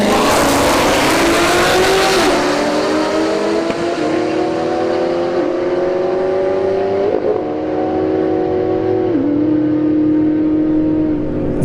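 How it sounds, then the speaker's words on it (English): A C7 Corvette and a ZL1 Camaro race off the line on a drag strip at Bradenton Motorsports Park, a loud launch burst giving way to screaming engines climbing in pitch through distinct gear shifts, nearby and continuous. "C7 right lane, ZL1 Camaro here in the left lane."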